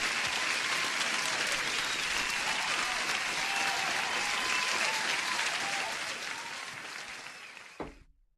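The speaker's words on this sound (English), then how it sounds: "Farhad, I need to give you an applause" Sustained applause from a crowd, loud and steady for several seconds, then fading out with a few last claps.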